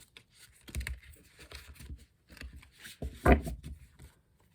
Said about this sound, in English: 1 more shuffle.